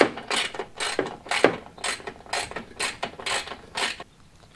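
A hand ratchet tightens the last light bar bolt on a 5th-gen Toyota 4Runner, giving about nine quick bursts of clicking in a steady rhythm, close and clear, then stopping.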